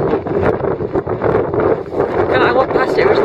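Strong wind buffeting the microphone outdoors near a cave on a UK wild camping trip, loud continuous rumbling gusts that swell and dip throughout.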